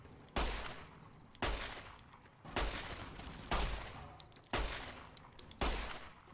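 Video game gunfire: six loud, evenly spaced bursts of shots about a second apart, each ringing out briefly, with no talk over them.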